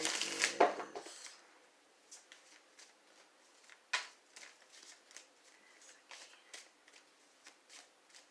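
Tarot cards being shuffled by hand: an opening burst of riffling, then a steady run of soft, quick card slaps and flicks recurring at close range with brief pauses between them.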